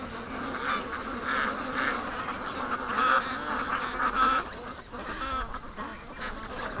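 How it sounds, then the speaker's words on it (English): A flock of ducks on the water quacks and honks continuously at close range, their overlapping calls forming a noisy, agitated chorus. "there are a bunch of ducks out in the water"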